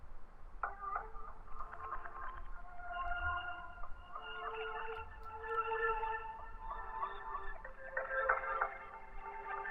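A lo-fi piano sample run through a Portal preset with bandpass filtering and delay gives a faint, narrow, shimmering texture of echoing tones over a soft, noisy bed.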